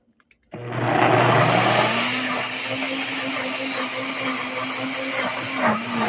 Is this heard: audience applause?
no